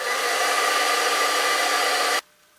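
Heat tool blowing steadily and loudly to melt iridescent embossing powder, a continuous broadband whoosh for about two seconds that cuts off abruptly, followed by near silence and a brief click.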